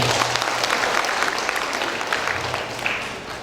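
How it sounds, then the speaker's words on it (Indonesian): Audience applause at a Ramadan charity distribution event for Quran teachers and the poor, steady dense clapping filling the room for several seconds, fading slightly toward the end. "Insya Allah kita berikan tepuk tangan kepada Kemenak"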